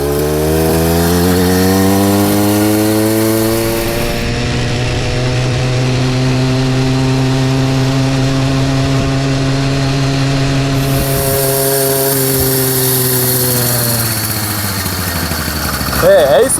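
A small 49cc engine on a motorized Poty bicycle revs up and holds a strained, buzzing climb, its harmonics rising and sliding back down as it settles, loud and close throughout with no voices.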